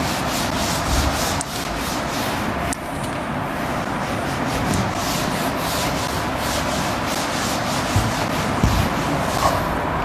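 An object is rubbed continuously with a steady, rough scraping friction, close and fairly loud, like sanding. Faint background traffic hum runs underneath, with no talking.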